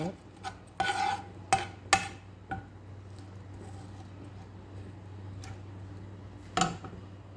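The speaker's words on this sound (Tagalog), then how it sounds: "Gigisahin ko muna ang bawang at sibuyas." Garlic being sautéed in a pan for chicken adobo, a low quiet sizzle under sharp scraping and clinking of a utensil against the pan in irregular bursts, close by.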